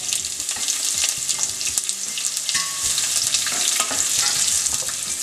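Onions frying in hot oil with mustard seeds in a pan for an Indian okra dish, a steady loud sizzle with crackling pops and stirring scrapes throughout, no talking.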